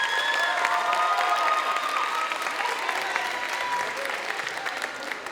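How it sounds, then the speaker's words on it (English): An audience at a school STEAM expo applauds Mr. Redlin, a dense sustained clapping from many hands that stays loud, then eases slightly toward the end. "So round of applause for Mr."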